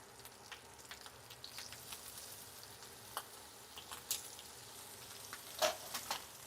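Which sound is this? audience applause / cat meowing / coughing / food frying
food frying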